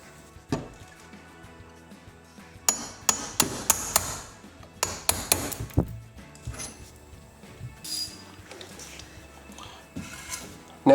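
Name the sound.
hammer and punch driving out drive hub pin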